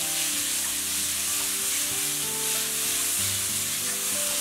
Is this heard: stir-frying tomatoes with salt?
yes